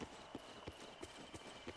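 Horse hooves clip-clop at a steady, even trot in Disney Dreamlight Valley, about six crisp, evenly spaced hoof beats in under two seconds, quiet and alone.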